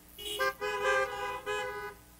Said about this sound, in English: you give a honk of the horn